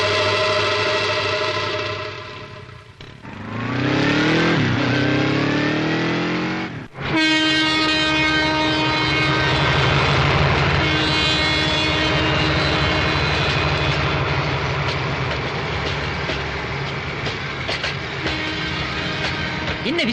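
A train at Royapuram railway station rumbles loudly and steadily, with a horn-like tonal blast and a sharp clank partway through, running continuously for about twenty seconds with no speech over it.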